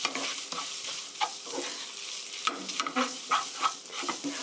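Spaghetti stir-fried in a hot pan, with steady sizzling under repeated scraping and tossing clatter as the noodles are turned over and over.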